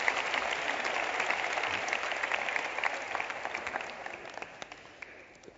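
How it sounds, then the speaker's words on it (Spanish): An audience applauds a speaker at a lecture on liquid modernity with Zygmunt Bauman, a dense, even wash of clapping from a large hall that gradually fades out. "Un aplauso, por favor"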